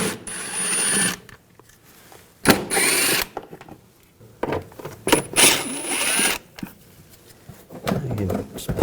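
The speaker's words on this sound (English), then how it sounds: "Using a 8mm socket, we're going to take off some of these bolts for the inner fender well." An 8mm socket on a power driver buzzes off inner fender well bolts on a 2000–2006 BMW X5, several loud whirring bursts of one to two seconds with pauses between and a voice talking.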